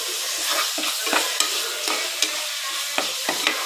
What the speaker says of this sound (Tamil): இதெல்லாம் நல்லா வதங்கி எண்ணெய் பிரிஞ்சு வரணுங்க